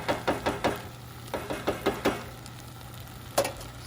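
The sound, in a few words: stirring sausage and mushroom risotto in a pot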